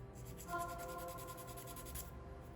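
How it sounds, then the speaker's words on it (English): Sanding twig rubbing over a surface to clean it up, heard up close as quiet, rhythmic scratchy strokes repeating steadily. "go in with your sanding twig"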